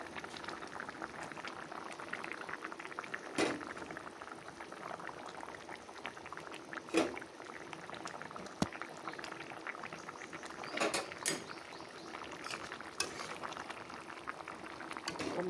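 Pabda fish simmering in a light, thin curry with ridge gourd and potato, a steady close bubbling and boiling texture throughout, with a few sharper knocks and splashes breaking through now and then.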